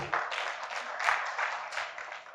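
An audience at a poetry gathering in Godhra applauds, a steady wash of clapping from many hands that swells and eases over a couple of seconds with no talk.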